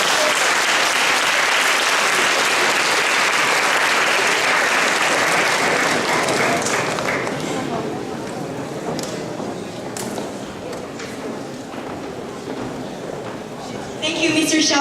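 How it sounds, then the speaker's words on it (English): Loud, dense applause from a crowd at a startup competition event that gradually thins and softens, then swells briefly again near the end. "Let's give him another round of applause."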